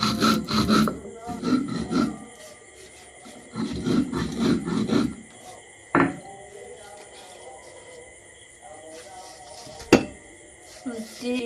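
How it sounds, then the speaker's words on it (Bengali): Biscuits being crushed on a stone grinding slab, a rough rhythmic scraping and rubbing in repeated strokes, fairly close, broken by pauses and a couple of sharp knocks. "এই বিস্কুটের প্যাকেটগুলো গুঁড়ি করে নেব আমি প্রথমে এই বিস্কুটগুলোকে এভাবে সিলের মধ্যে"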